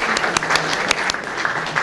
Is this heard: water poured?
no